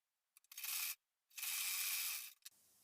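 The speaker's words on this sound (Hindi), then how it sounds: "तो बस यहाँ पर हम सिलाई लगा लेते हैं।" A sewing machine stitches a fabric strip for a buttonhole placket in two bursts, a short run and then a longer one, each a fast even whirring rattle separated by a brief pause.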